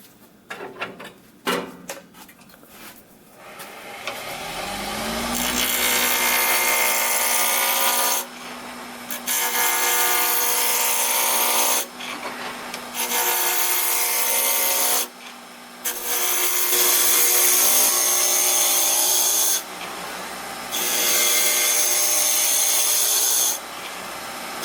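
A wood lathe spins up and a roughing gouge rasps steadily against a square wooden pipe blank, rounding it into a cylinder in long loud passes, broken by short pauses between cuts.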